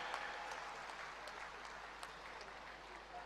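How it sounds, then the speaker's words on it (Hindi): Steady audience applause at a felicitation ceremony for Olympic medallists, dense and continuous clapping filling the hall at an even level throughout. "तालियां कम हो गई हैं।"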